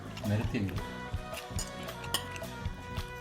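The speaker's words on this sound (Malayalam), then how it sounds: "കുറേ ചോറ് ഇടാം," A spoon scoops and scrapes cooked rice onto a plate in a home kitchen with fish head curry nearby, producing soft clinks and taps beneath someone talking.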